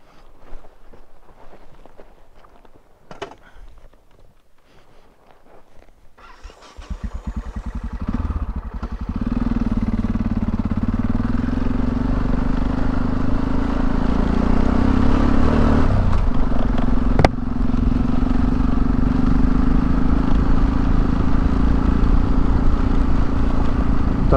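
A vehicle engine climbs a gravel track, starting quiet with light rattling, then surging into a loud, steady drone that holds, with a brief sharp click near the end.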